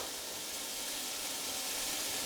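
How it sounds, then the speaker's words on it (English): Beef pieces hit a very hot pan for stew, producing a continuous, even sizzling hiss that stays steady throughout with no voices. "beef in, and that sizzle is what I want"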